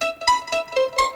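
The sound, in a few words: synth pluck without hybrid reverb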